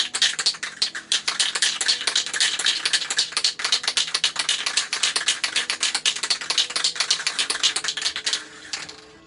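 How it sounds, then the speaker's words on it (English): Rapid, loud clacking close by, a dense run of sharp taps that carries on steadily for about eight seconds before easing off. "You're going to hear some clacking."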